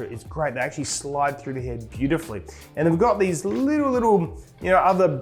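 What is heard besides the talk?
No distinct noise like a dog, phone or traffic.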